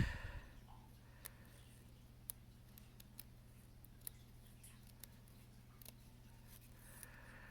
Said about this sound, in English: Just snipping along.